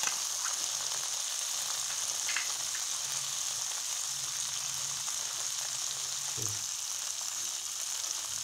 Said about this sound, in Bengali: একটু পরে এতে টমেটো কুচি দিয়ে দিই।